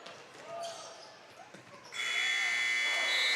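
End-of-quarter buzzer at a varsity high school basketball game between Hills-Beaver Creek and Central Lyon, a loud sustained electronic tone that cuts in over crowd noise and a ball bouncing on the court.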